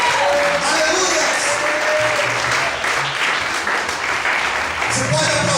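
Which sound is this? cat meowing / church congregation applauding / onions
church congregation applauding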